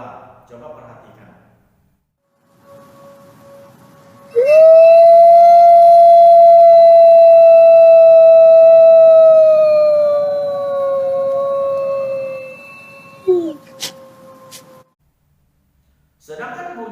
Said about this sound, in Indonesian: Nah, contoh kedua serigala.